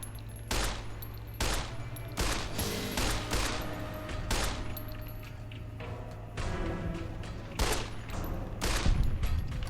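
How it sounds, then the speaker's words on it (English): Rapid shots from a weathered 10mm pistol ring out in Fallout New Vegas, a string of sharp cracks fired in quick irregular bursts over a low steady game hum. "let's switch to the weathered 10mm pistol. And we'll see if we can't just pop that guy right in the head"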